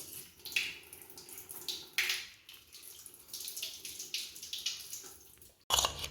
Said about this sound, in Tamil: இது மாம்பழத்தரெல்லாம் வாஷ் பண்ணிக்கலாம்